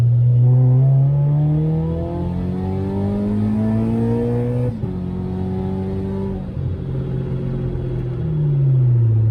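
A supercharged Scion FR-S with an aftermarket exhaust accelerates hard through the gears, its engine note climbing in pitch, dropping at each shift and climbing again, loud and close from inside the car.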